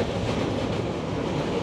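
Inside a moving old passenger train with dusty seats and broken, stuck windows: a steady, loud rumble and rattle of the carriage fills the whole span without pause, with no voices.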